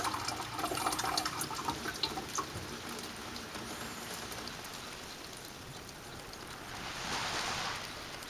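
Liquid from a sterling silver refine is siphoned off, a steady watery rushing and splashing that swells near the end, close and without talk.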